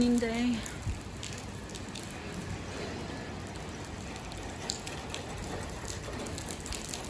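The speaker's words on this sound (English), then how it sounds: "Big raining day." Heavy rain falls in Japan as a faint, continuous hiss of dense patter. A voice is heard briefly at the very start.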